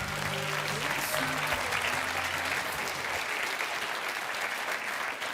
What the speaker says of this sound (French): On applaudit pour l'encourager